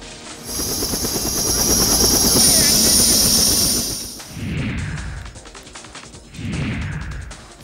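A helicopter carrying a newborn girl home is heard whirring loudly for several seconds before fading out, followed by two short bursts of a news reader's voice.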